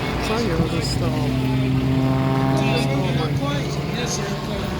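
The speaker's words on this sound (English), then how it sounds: "This airplane is so close." An aerobatic airplane flying close at the 2023 Martinsburg airshow: a loud, continuous propeller-engine drone with shifting pitch as it passes, with crowd voices underneath.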